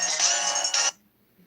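A phone ring, a bright electronic trill repeating in two bursts close by, then cutting off abruptly into near silence.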